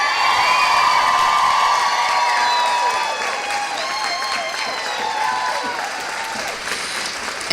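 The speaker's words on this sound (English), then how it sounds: "Can we have a huge round of applause for Alicia Fleming?" Large crowd at a racial justice march applauding steadily, with cheers and whoops rising over continuous clapping that fills the whole stretch without pause.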